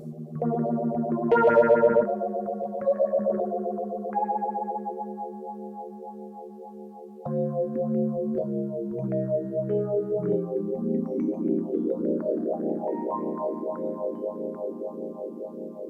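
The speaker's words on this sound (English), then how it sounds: "The phaser features our VCM, virtual circuitry modeling effect, and it is incredibly authentic." Sustained Yamaha reface CP electric piano chords swirl with a sweeping, whooshing phaser modulation, rising and falling in tone while notes ring out and change.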